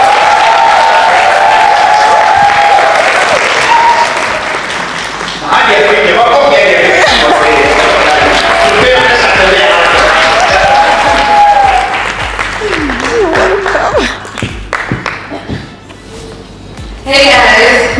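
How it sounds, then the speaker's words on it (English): An audience at a hosted event breaks into a loud, enthusiastic round of applause with some cheering, swelling and fading in waves while voices speak over and between the clapping. "People, please let's all give a round of applause to"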